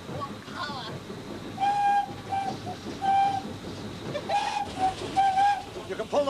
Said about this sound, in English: We'd like to blow the whistle for the crossing keeper